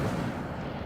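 Incendio fire spell cast in Hogwarts Legacy bursts as a short, dense whoosh of flame, loud and close, decaying quickly within a second.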